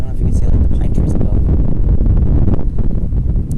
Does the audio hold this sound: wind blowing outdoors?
yes